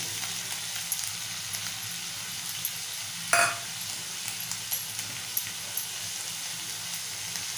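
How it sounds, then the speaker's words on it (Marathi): Sliced brinjal and potato fry in spicy masala for a brinjal potato curry, giving a steady, moderate sizzle throughout. A single sharp clatter near the middle interrupts it, small faint ticks come and go, and no one talks. "आपण उभी चिरलेली वांगी घालूया। उभा चिरलेला बटाटा घालूया।"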